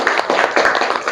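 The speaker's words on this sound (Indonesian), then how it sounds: "Tepuk tangan untuk kita semua." Students in a classroom clap together, a quick run of sharp, closely spaced claps in a lively rhythm, fairly close and loud.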